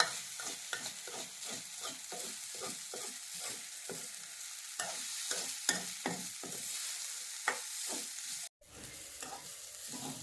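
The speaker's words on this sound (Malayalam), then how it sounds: "നന്നായിട്ട് ഇളക്കി ആ വെള്ളമയം വറ്റിയൊന്ന് വരട്ടെ" Broken samba wheat uppuma is stirred in a pan while its water cooks off. A low sizzle runs under repeated, evenly paced spoon scrapes and pushes, close and continuous for about ten seconds.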